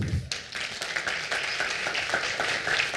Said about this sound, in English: So another applause for you because you are my heroes.